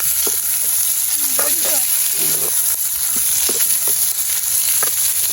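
Onions frying in oil for homemade chicken rolls, a steady close sizzle throughout with occasional stirring clinks and scrapes, and faint voices murmuring in the background.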